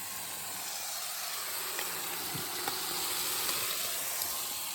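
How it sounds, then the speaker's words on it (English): Bacon and eggs frying on a camp cooker outdoors in the high country give a steady, close sizzle and hiss that holds evenly for the whole stretch, with no talking. "Just frying up some bacon and eggs this morning."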